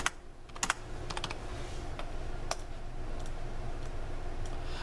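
Rapid clicks of computer keyboard typing, scattered taps in short bursts, close and fairly quiet against a steady low background hum, with no talking.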